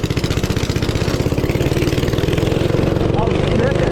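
A Honda go-kart engine running close and loud at a steady idle-like rhythm, with a voice speaking over it.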